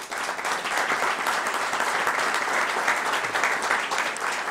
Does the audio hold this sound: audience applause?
yes